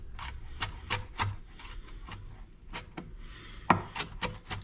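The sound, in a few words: chopping fresh dill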